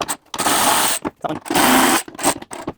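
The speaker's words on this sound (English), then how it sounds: "Just a handy cordless ratchet, and we'll pull all the wheels off." A DeWalt DCF513 cordless ratchet removes the wheels from a lawn mower, giving two loud, sustained whirring bursts of about half a second each, separated by short pauses and brief clicks.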